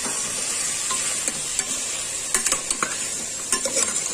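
Chopped carrot, cauliflower and other pav bhaji vegetables sizzle loudly in a hot pan while a spatula stirs them, with a steady hiss punctuated by a quick cluster of scraping clicks toward the end; no speech.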